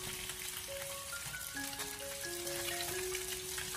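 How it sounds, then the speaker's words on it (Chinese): Pieces of grass carp pan-frying over low heat, a soft steady sizzle running throughout while a few tonal musical notes play over it. "用小火慢煎至底下金黄色之后，再用筷子给它翻个面。"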